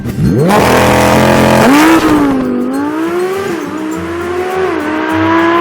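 A 2016 Lamborghini Huracan doing a launch-control start, engine held near 4,500 RPM then a loud, close roar that climbs steeply through quick gear changes, each shift briefly dropping the pitch before it rises again.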